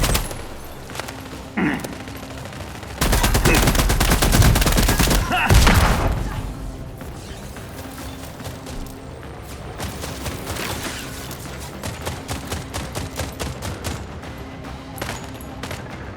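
Rapid bursts of automatic gunfire and heavy volleys in the sci-fi shooter The Expanse: Osiris Reborn, a loud sustained fusillade with sharp booms, then scattered shots continuing under combat noise.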